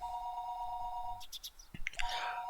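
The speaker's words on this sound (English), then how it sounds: "It was then that I noticed the phone was ringing." A telephone rings in the Higurashi visual novel game, a steady electronic ring tone that breaks off, followed by brief clicks and a rising tone.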